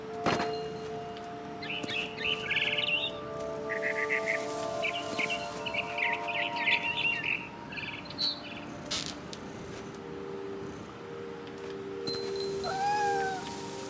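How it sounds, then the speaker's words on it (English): A barn swallow chirps in the video game What Remains of Edith Finch, with a few quick, high rising calls near the end, heard faintly after softer cat meows and light rustling. "Then I heard chirping outside my window. It was a barn swallow going back to her nest."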